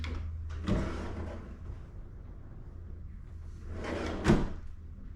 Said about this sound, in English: I like playing with the drawers, as you can see.